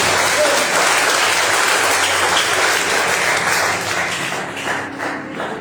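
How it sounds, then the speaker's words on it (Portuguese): Loud, full applause from a church congregation welcoming the preacher, a thick continuous roar of many hands that stays strong before thinning slightly toward the end. "Recebe o servo do Senhor com as palmas para Jesus."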